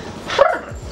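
Small dogs barking and yipping in a short burst at a home, a few close sharp barks rising near the middle of a brief moment.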